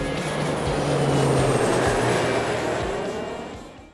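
The Wuppertal Schwebebahn, a suspended monorail train, rumbles past close by with a broad whooshing roar and rhythmic clacks, swelling and then fading away over a few seconds.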